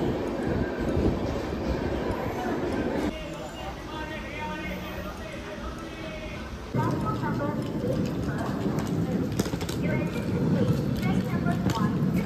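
An overnight passenger train pulls into Salem station: a steady low rumble of rolling carriages with shifts in intensity, heard up close from on board under ongoing talking.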